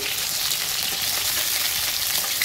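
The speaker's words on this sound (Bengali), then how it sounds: "কাঁচকলা এটি পরে এদিকে একটু হালকা হালকা ভাজা করে দিই" Slices of green banana fry lightly in a pan of oil, producing a steady, close, bright sizzle that runs without a break, with no talking over it.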